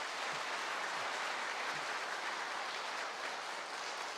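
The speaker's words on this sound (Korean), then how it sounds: "우리 격려의 박수를 크게 한번 해주시기 바랍니다" Steady applause from a church congregation after a choir's hymn at a Sunday service, a dense, even wash of clapping held at one level from start to finish with no voices over it.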